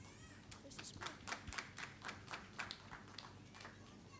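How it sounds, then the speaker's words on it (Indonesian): Audience applause at a graduation ceremony, a steady patter of many hands clapping at moderate distance, soft and continuous under a low hum. "Mari kita berikan tepuk tangan"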